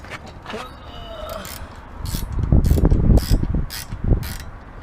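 A ratchet wrench tightens bolts while mounting a Braum racing seat in a Nissan 370Z, a run of quick close clicking strokes in bursts, preceded by quieter handling noises.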